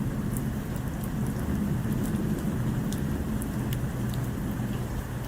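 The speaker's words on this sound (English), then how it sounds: "their skies are always filled with ash and black clouds, and it pours filthy rain relentlessly." Heavy, relentless rain pours steadily in a bleak video game world of ash-filled skies, a dense even hiss with scattered droplet ticks and no voices over it.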